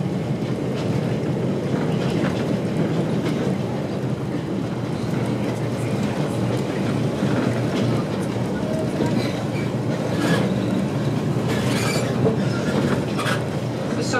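The Taieri Gorge train rolls onto the Wingatui Viaduct with a steady rumble of railcars and wheel noise, wind buffeting the microphone and faint squeals and clanks rising above the continuous drone.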